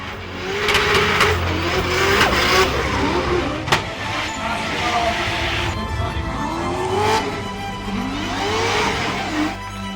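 Toyota Supra drift car revving hard in the burnout box at a Drift Masters Germany event, engine rising and falling with tire squeal, loud and continuous amid crowd and commentary noise.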